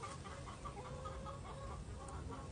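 Backyard chickens clucking at a moderate distance, a series of short, irregular clucks over faint outdoor background noise.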